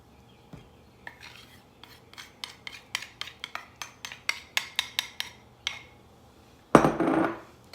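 Melted butter being stirred into a keto biscuit mixture in a bowl, a run of quick, rhythmic utensil taps against the bowl that grow louder, then a heavier scraping sweep at the end.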